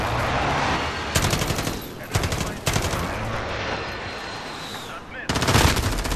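Rapid automatic gunfire in Modern Warfare rattles out in several loud, close bursts separated by short pauses, over a steady background of game noise.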